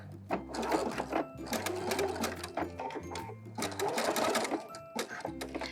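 A sewing machine zigzag-stitches across a bralette strap, its needle chattering in steady bursts with brief pauses between passes, close and loud with no talk.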